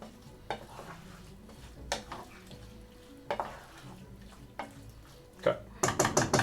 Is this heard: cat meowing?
no